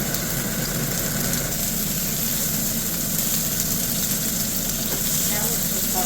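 Fish and onions cooking in a pot over an open fire, a loud, steady sizzle and bubbling hiss with a low roaring rumble underneath, continuous throughout with no pauses.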